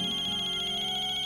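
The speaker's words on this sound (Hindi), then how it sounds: "अक्षरा मैनेजर का फोन है" A telephone ringtone plays steadily and loudly as a call comes in during an Indian TV drama, a bright electronic trill repeating without pause and no talking over it.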